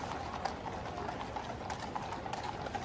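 Horses' hooves clip-clop on the road as royal carriages roll toward the Mall in the Trooping the Colour birthday parade, a faint, steady rhythm of many hooves heard from a distance.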